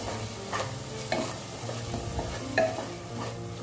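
Garam masala is stirred into masala frying in a pan for lauki chana dal, with a close, continuous sizzle and repeated scraping strokes of a spoon. No one speaks.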